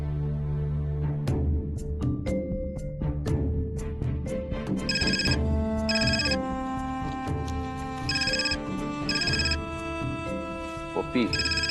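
A telephone rings indoors in repeated bright bursts over background music, each ring separated by short pauses, while a voice calls out in the room.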